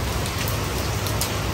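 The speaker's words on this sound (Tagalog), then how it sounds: "Umuulan pa rin, pero carry na yan." Steady rain falls outside a balcony during flooding, a dense, even hiss of drops that holds without a break, with a low rumble underneath and no voices.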